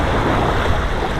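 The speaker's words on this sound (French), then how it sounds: "Donc là, il y a vraiment du vent." Strong wind blows over Lake Neuchâtel while fishing, a loud steady broadband rush with water lapping beneath, unbroken across the short moment.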